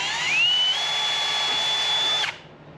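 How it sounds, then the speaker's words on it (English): A power drill whines up to a steady high pitch while boring into metal, runs for about two seconds, then stops abruptly. "You can get my drill bit there."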